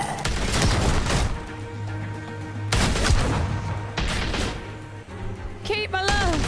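Gunfire in a video game, a near-continuous run of loud shots and blasts with a few sharper peaks, and a voice talking over it toward the end.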